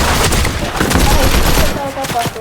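Rapid bursts of gunfire from the Fortnite video game crackle loud and close, shots overlapping in a dense volley throughout.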